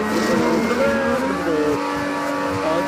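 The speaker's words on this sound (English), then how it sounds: "I thought that's a car engine, not a robot." A car engine in the TrackMania racing game drones steadily with a wavering, slightly synthetic pitch, loud and continuous with no talk over it.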